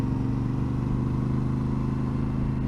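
A Yamaha Ténéré 700 motorcycle rides along a gravel road, its engine droning steadily and close throughout with a constant mid-pitched hum and no pauses.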